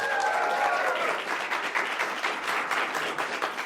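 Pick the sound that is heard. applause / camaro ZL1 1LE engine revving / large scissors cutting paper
applause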